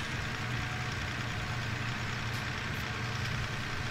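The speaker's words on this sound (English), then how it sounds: "Whoa, big time over-revving the motor there." A farm vehicle's motor in Farming Simulator, over-revving after compost spreading, holds a steady, loud, continuous drone with a low rumbling engine tone throughout.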